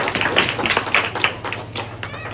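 Lively church congregation clapping hands together in thanks to the Lord, a dense, steady patter of many hands filling the room, loud and close, with no one speaking over it.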